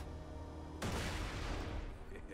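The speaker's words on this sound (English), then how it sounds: "I use my gun that aims itself" A self-aiming gun fires in Borderlands 2, one sharp loud blast kicking in suddenly and then a dense rumbling burst of gunfire that slowly thins out, with nobody speaking.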